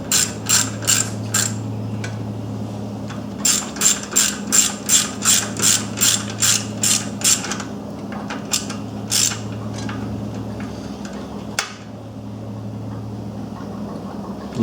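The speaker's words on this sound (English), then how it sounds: "this looks like a 10mm head bolt. Alright, so we're going to go ahead and tighten him down." A hand ratchet tightening a 10mm bolt on a Kawasaki Mule 3010 carburetor. Close, crisp runs of rapid clicking come in several bursts over a low steady hum.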